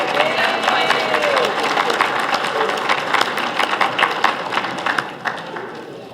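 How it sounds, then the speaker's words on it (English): A crowd at a medieval-style royal court event applauds for Apollonia, dense steady clapping close and loud that holds for several seconds before tapering off near the end. "A round of applause for Apollonia."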